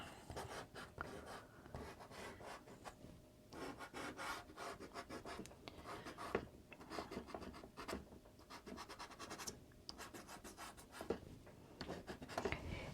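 Soft pastel scraped in horizontal strokes across paper, giving a quiet, continuous scratchy rasp in repeated back-and-forth bursts with short pauses between them.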